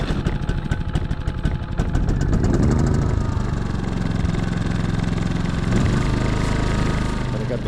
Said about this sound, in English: I got the generator running.